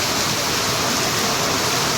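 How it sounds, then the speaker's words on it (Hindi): Heavy rain pours down outdoors in Jaipur, a loud, dense and unbroken hiss that fills the whole moment with no voices. "तो ये देखिए कितनी बारिश हो रही है, बहुत तेज़ बारिश हो रही है।"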